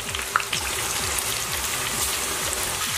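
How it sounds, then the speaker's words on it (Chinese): Breaded chicken legs, dipped in coating powder and egg wash, deep-fry in oil at about medium-high heat with a steady, dense crackling sizzle and fine bubbling that runs throughout, close and continuous. "油温6成热下锅炸。"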